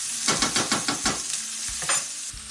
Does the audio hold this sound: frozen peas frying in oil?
yes